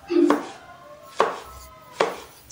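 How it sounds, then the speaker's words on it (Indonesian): A knife slicing shallots and tomato thinly on a cutting board, three crisp distinct chops spaced about a second apart, close and clear with no talk. "Kita iris tipis-tipis."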